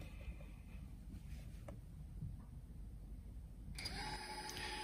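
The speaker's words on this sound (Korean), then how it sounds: "시동 걸어서 한번 모터를 돌려볼게요" Drone motors on a Pixhawk flight controller with BlueJay ESC firmware spin up near the end. A sudden rising electric whine with bright tonal overtones cuts in over faint background hiss.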